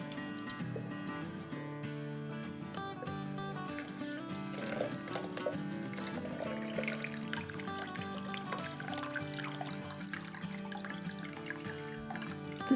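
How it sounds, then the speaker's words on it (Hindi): Lemon-infused water for pink lemonade is strained and poured, a light trickling and dripping with small ticking clinks, partly masked by steady background music. "अब ये पानी जो है वो स्ट्रेन करके डालेंगे क्योंकि इसमें बीज भी है।"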